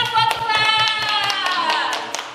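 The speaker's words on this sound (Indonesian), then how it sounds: "Tepuk tangan buat" Rhythmic hand claps beat steadily under a sustained tonal background, like music playing while a group claps along at a children's Sunday school service.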